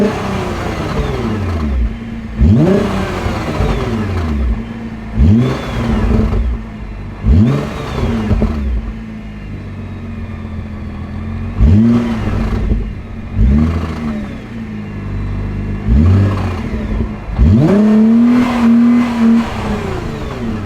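A completely stock Nissan GT-R with its standard, unmodified exhaust revs repeatedly, about eight sharp blips rising and falling over a steady idle, loud and close with no talking.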